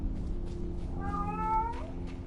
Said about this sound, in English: there's a screaming cat